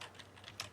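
A few light, quiet keystrokes tap on a computer keyboard, with brief irregular clicks spaced through a short moment.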